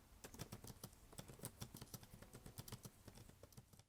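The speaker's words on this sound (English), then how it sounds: "I'm going to be quiet for a minute so you can hear me typing." Fast, light keystrokes on a Brydge 12.3 Pro+ keyboard paired with a Surface Pro 7, heard up close as a quiet, uneven patter of clicks with no talking.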